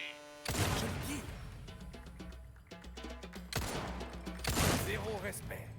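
Gunfire in Resident Evil 4: a few sharp, loud shots ring out separately over game sound, with talk in between.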